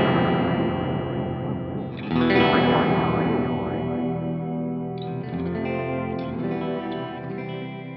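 Electric guitar runs through a Seymour Duncan Vapor Trail Deluxe analog delay, a dense, distorted wash with sustained chords and repeating echoes that swell midway and trail off, alone and loud with no talking.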